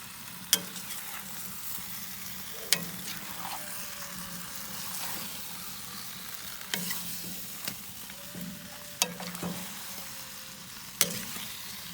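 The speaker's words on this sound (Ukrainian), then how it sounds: "і обжарюємо картопельку разом з м'ясом до повної готовності" Steady sizzling of potatoes and meat frying in oil in a pan, with occasional sharp clicks and scrapes of stirring, no talking.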